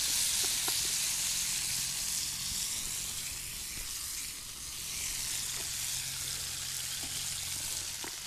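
An egg sizzles and fries in a pan over a woodland day-camp fire, giving a steady, close hiss with faint crackles and a low background hum throughout.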